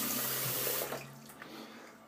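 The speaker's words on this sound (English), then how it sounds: "Wet face with some cold water." Cold tap water pouring from a faucet into a sink to wet a face before a shave, a close splashing rush that fades after about a second.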